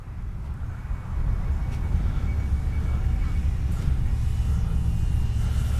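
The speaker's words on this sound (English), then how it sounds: "This is the second time I've ever had this plane in the air." A Durafly Rare Bear RC model plane flies past with a steady, continuous motor drone that swells after the first second and holds loud to the end, with no one talking.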